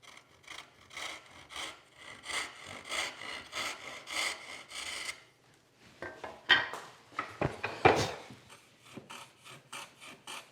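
A handsaw cuts square across a wooden furniture door-panel piece in steady, rhythmic back-and-forth strokes, loud and close. The strokes pause midway, followed by a few sharper scraping and knocking sounds.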